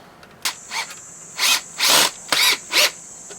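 A power drill bores holes into a wall during mosaic cement tile installation, heard close in five or six short whining bursts separated by brief pauses.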